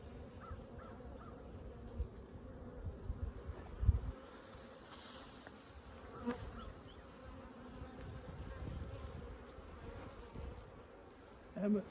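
Honey bees buzz in an opened hive in spring, a faint steady drone with a few louder bumps and knocks, and no voices.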